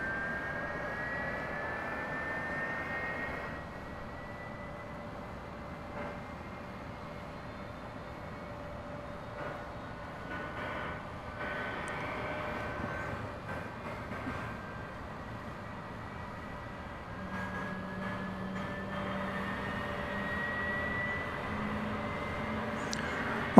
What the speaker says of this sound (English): It's another 767. This is flight 793.